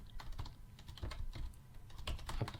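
Faint typing on a computer keyboard in the background, a quick irregular patter of soft key clicks heard up close but low in level, with no talking over it.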